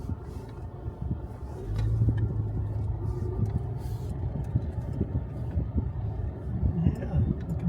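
A car cruising along a rural back road in Georgia, its low engine rumble and tyre roar steady and close from inside the cabin, with a voice talking over it.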